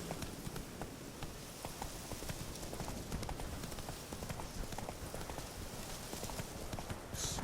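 A horse gallops in the video game The Witcher 3: Wild Hunt, its hooves clip-clopping in a fast, steady, continuous rhythm, moderately loud with faint background game ambience.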